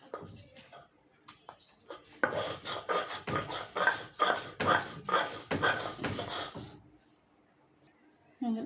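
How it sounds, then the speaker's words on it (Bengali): Chillies and coriander mash are ground on a grinding stone, a series of rhythmic coarse rubbing strokes growing louder for several seconds before stopping, close and fairly loud. "আমি এখন ভর্তাটা বেটে নেব, মরিচগুলো একটু বেটে নিব"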